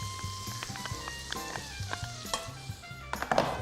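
Onion and bacon frying in melted butter, a soft sizzle with intermittent stirring clatters and scrapes, close and fairly quiet.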